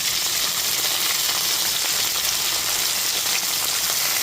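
Two medium chopped tomatoes fry in oil in a pan, producing a loud, steady, rain-like hiss of sizzling that carries on unbroken throughout.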